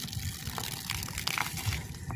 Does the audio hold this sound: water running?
yes